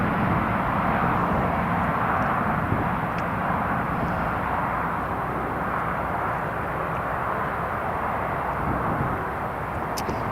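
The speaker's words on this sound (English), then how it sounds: "We've got a Lufthansa, just turned on to final approach." A Lufthansa airliner on final approach to Newcastle Airport gives a steady, moderate engine rumble that holds throughout, with no talk over it.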